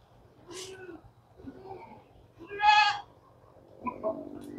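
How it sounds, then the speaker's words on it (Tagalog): Goats in a small farmyard pen bleat close by: three or four wavering calls spaced a second or so apart, the third loudest, over a quiet background. "Ang ating kambing."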